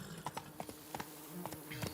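Horse hooves clip-clop in The Witcher 3 as the mount sets off slowly, a string of soft, evenly spaced thuds over a low game ambience with music.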